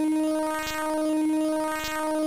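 A Game Boy running LSDj plays a steady tone on a sine or triangle wave with the normal-mode phase effect, giving a sustained, evenly swelling and sweeping sound that pulses twice across the stretch, with no voices.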